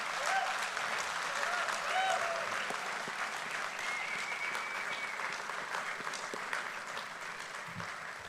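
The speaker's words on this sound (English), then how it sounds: "give a huge cheer for all of you guys, a cheer for yourself for completing the program" A graduation-ceremony audience cheers and claps for the graduates, a dense, steady wash of applause and shouting that fills the whole stretch, fairly distant and slowly tapering toward the end.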